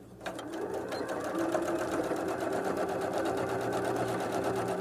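Sewing machine running a steady continuous stitch around a curve, starting with a backstitch while making a double wallet, loud and even throughout with a constant motor drone and rapid needle rhythm.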